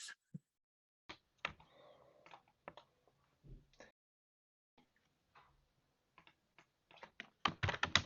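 Scattered keystrokes on a computer keyboard, sparse at first, then a quick flurry of typing at the end.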